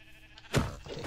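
A sheep in the Minecraft video game gives a single short bleat, fairly close and loud, against quiet game background.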